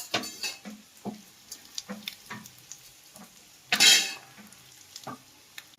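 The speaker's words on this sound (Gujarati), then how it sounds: "તો હવે તળી લેવાનું છે. તો પહેલાં ગુંદર તળી મૂકી દો." Edible gum pieces frying in ghee, with scattered soft sizzles and spatula scrapes, a few clicks and one louder burst of crackle midway, close and fairly quiet.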